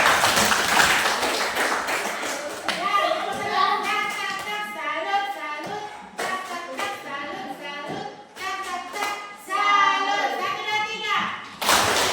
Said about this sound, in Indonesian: tepuk salam dulu